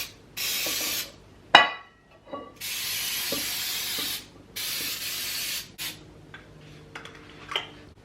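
Grease sprays from a can into a cake pan for a Jamaican fruit cake in several loud, close hissing bursts of a second or more each, separated by short pauses and a sharp click.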